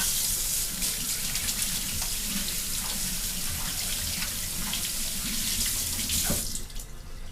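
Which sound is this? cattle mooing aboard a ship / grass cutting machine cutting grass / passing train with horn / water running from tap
water running from tap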